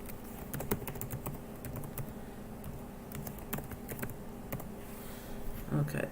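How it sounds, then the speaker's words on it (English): Steady typing on a computer keyboard, close and fairly soft, with a regular patter of key clicks over a low background hum and a faint voice near the end. "I want to type this."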